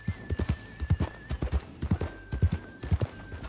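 Horse hooves clip-clop at a steady running gait in a role-play video game, close and rhythmic, with a faint whinny over a steady tonal background.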